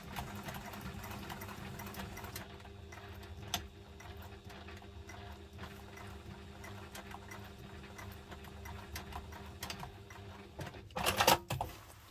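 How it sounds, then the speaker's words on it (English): A sewing machine runs a line of stitching along an urban messenger diaper bag, its rapid mechanical ticking and whirring steady and close, with a few sharper clacks near the end and no talking. "I'm going to add a line of stitching"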